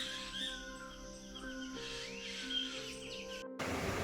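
Small forest birds at Sattal, including a mixed flock, call and chirp faintly amid soft background hum, with thin scattered tweets spread across several seconds.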